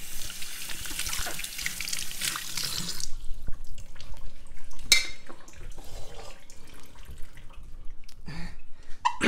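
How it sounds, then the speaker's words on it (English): Running tap water rinsing a lid at a sink, a steady close splashing stream that fades midway to quieter trickles and drips with a few clinks. "Rinse the lid."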